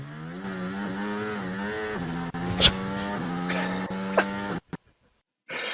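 A Formula 1 car accelerating hard on throttle, its engine note climbing through rising gear steps with sharp shifts, loud and close, then cutting off abruptly into near silence before another burst.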